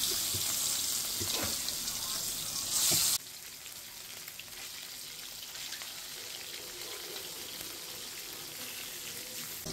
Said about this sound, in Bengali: কই মাছ ভাজি, কই মাছ